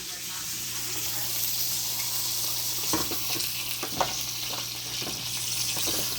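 A bone-in steak searing in a hot pan on high heat, giving a steady sizzle and hiss with a few sharp crackles and bumps as it is moved, while a voice talks faintly in the background.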